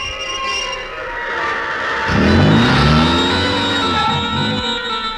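A car engine revs up and pulls away in a tense roadside action scene, rising loudly over ongoing background music with a swelling, sweeping engine note.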